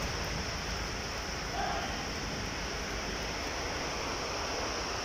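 Steady, dense rain hisses evenly throughout during a storm in Saudi Arabia, heard as a constant broadband wash with no talking.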